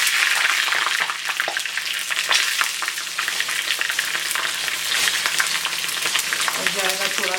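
Dried red and green chilies sizzle in hot oil for a tempering, a dense continuous crackle close by with rapid pops and spatter, briefly joined near the end by a faint voice.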